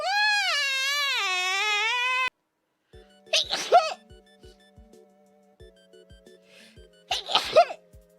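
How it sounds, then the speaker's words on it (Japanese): Two sharp sneezes ring out close by, a few seconds apart, each a quick inhaled build into a bright burst, after an opening stretch of a high sweeping tone and over a faint ticking background. "ごめん、歌う前にくしゃみだけさせて。"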